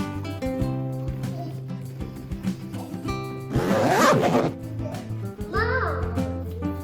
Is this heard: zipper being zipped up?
yes